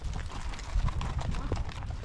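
Hooves of a horse herd clip-clop over ground during a spring ranch horse drive, a soft, fairly distant patter of steps with low rumbling background.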